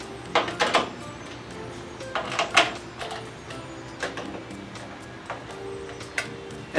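Push-down clamps with T-nuts being tightened on a metal T-slot table, a scattered series of sharp close metallic clicks, ticks and scrapes, fairly quiet with gaps between them.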